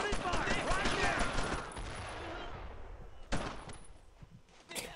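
Heavy gunfire in the World War II shooter Brothers in Arms crackles as a dense rattling fusillade that fades over a couple of seconds, then gives way to a couple of isolated sharp shots.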